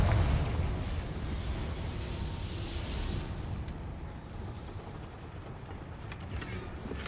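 A Confringo explosion spell in the video game Hogwarts Legacy, a loud fiery blast at the start that rumbles and fades into a long roaring tail with no talking.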